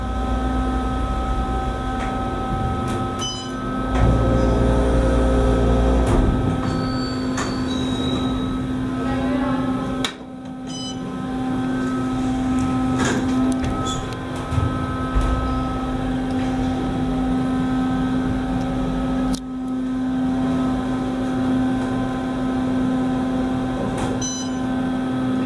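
A steady, loud hum with a strong low drone from an OTIS hydraulic elevator car riding upward in a hotel, broken by a couple of brief clunks along the way.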